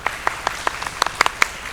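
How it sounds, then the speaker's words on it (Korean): Sparse, scattered clapping from a small audience at a Korean academic conference session, a handful of distinct claps at uneven intervals rather than a full ovation. "박수 한번 쳐주시죠."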